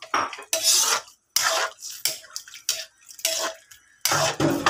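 Spoon scraping and clanking against a cooking pot while tuna stew is stirred, in loud irregular bursts with brief pauses between strokes.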